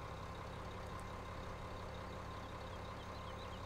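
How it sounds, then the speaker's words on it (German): A steady, even engine drone from a tractor in the Farming Simulator 17 video game, running continuously at a constant moderate level with no other sounds. "Der Traktor dürfte, er dürfte jetzt wunderbar das Ganze machen."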